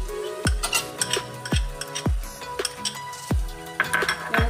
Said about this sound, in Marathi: याला चांगला मिक्स करून घेऊ।